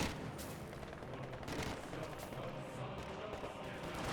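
Sustained gunfire in the World War II strategy video game Company of Heroes, with an MG34 machine gun crew firing on infantry, a dense, continuous crackle of shots and battle noise at a steady, fairly faint level.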